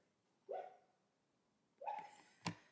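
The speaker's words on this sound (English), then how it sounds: "That's my dog dreaming." A sleeping dog, dreaming, lets out two soft whimpering yelps about a second apart, then a short sharp huff, quiet and close in an otherwise still room.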